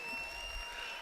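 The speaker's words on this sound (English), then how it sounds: "the round of applause that I give is on top of the actual round of applause that's in the stream" Audience applause at a live-streamed convention event, a steady dense wash of clapping filling the whole second at moderate level, with no voices over it.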